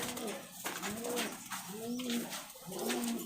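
A Rajshahi Giribaj pigeon cooing up close, three soft, low rolling coos in steady succession against a quiet background.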